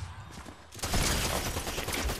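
Shotgun fire in Fortnite: after a brief quiet lull, a loud, harsh burst of gunfire and impacts erupts and keeps crackling to the end.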